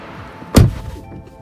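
A Tesla Model 3 door pushed open from inside after pressing the interior button, giving one close, solid thunk with a short rattle fading out, alone without speech.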